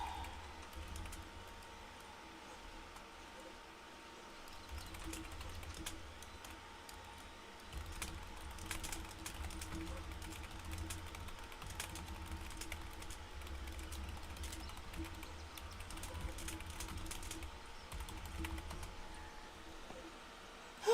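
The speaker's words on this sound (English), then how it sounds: "why am I typing when I could talk?" Steady computer-keyboard typing runs under a low background hum, quiet and continuous for the whole stretch, with irregular soft key clicks and no talking.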